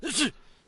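A video game character in DayZ gives a single short, high-pitched sneeze, quick and sharp, then near silence.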